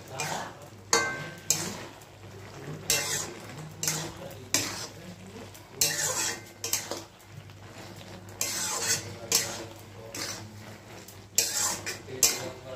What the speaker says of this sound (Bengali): এই যে ধনেপাতা বাটা, সবটাই দিয়ে দেবো। ভালো করে মিশিয়ে দিতে হবে।